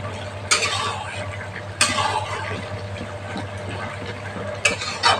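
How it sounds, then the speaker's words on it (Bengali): Coriander leaves are stirred into a pumpkin-eggplant curry with fish head, giving a few sharp scraping clatters of the spoon against the pot over a low steady hum. "ধনেপাতাটা দিয়ে আমি মিশিয়ে দিচ্ছি।"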